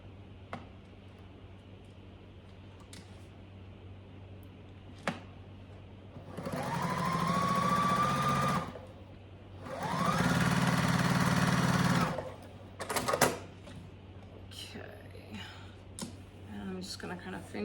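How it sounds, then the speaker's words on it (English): Sewing machine stitching quilt pieces together for a Tilda quilt, two steady runs of a few seconds each separated by a short pause, fairly close and clear against a quiet room with faint clicks. "I'm gonna sew these together."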